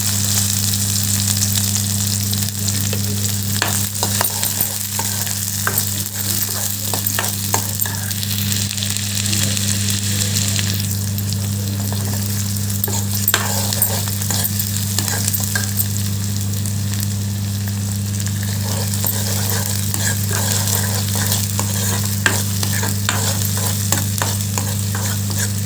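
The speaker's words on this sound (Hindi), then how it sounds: "प्याज को अच्छे से फ्राई करेंगे हल्का ब्राउन होने तक।" Onions frying in hot oil with cumin seeds, cloves and cardamom for an egg curry, a loud continuous sizzle close by with repeated scraping strokes of a spatula stirring throughout.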